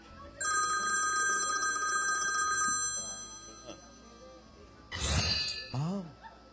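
A telephone rings in a trilling burst for a couple of seconds, then stops, followed by brief handling clatter and a short voice.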